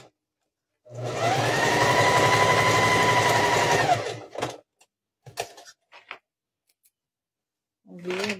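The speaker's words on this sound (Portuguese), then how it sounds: "eu vou dar uma costuradinha um pouquinho a mais, só para alinhar ela ficar certinha" Domestic sewing machine runs in one steady burst of about three seconds, stitching the fabric lining of a Christmas house panettone cover, followed by scattered handling clicks and a faint voice near the end.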